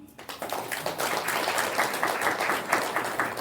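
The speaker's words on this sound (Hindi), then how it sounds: "ताली तो बजाओ।" An audience at a spiritual talk in Mahagama, Jharkhand breaks into sustained applause, many hands clapping together close and steady for a few seconds, with a faint voice near the start.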